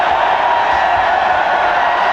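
A basketball arena crowd at a 1995 NIT quarterfinal between Virginia Tech and New Mexico State roars in a steady, dense wash of cheering, loud and sustained for a couple of seconds.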